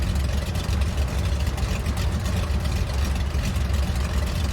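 Twin radial engines of a Grumman Goose seaplane in Microsoft Flight Simulator drone steadily, a dense low rumble with a faintly uneven, rough edge, continuous throughout with no voices.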